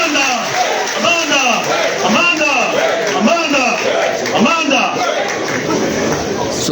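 An audience at a political opposition party strategy meeting at ANC headquarters chants and cheers loudly in a steady rhythmic swell that carries on throughout.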